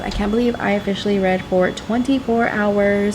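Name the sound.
hair blow dryer running in another room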